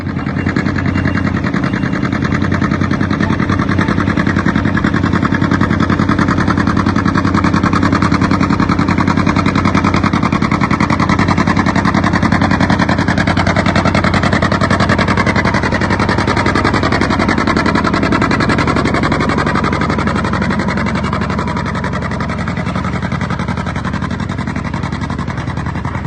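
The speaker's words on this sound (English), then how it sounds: "Here's one of the better hooks from this past season with this tractor." A John Deere 70 tractor engine pulls hard at a tractor pull, a loud, sustained, close roar with steady pulsing that eases slightly toward the end.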